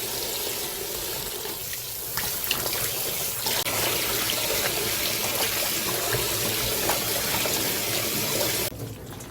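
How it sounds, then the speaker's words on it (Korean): Tap water running continuously while salted napa cabbage is rinsed for kimchi in a sink, a steady close splashing rush with small handling splashes, dropping away briefly near the end. "이 배추는 3번 정도는 씻어 주셔야 돼요."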